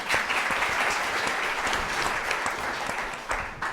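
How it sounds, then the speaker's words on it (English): An evening audience at a museum directors' talk applauds for Nellie, a loud, dense crowd of clapping hands that carries on steadily from start to finish with a few sharper claps standing out. "So you need to clap again for her on that front."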